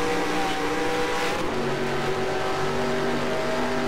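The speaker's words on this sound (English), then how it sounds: "Super fast car that can accelerate up to 220 in a heartbeat" A race car in NASCAR Racing 2003 accelerates, its engine a steady loud drone with rising harmonic whine, continuous and close throughout.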